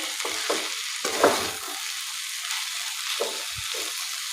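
Okra frying in a pan as crushed peanuts are mixed in, a soft background sizzle interrupted by several separate scraping strokes of a spoon, nearby and without speech.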